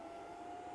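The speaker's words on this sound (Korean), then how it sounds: "이제 모터 소리가 막 들리죠" A steady electric motor hum from a small vacuum heat press machine for making phone cases, with a strong constant tone and a soft airy whir underneath, even and unchanging, no talking.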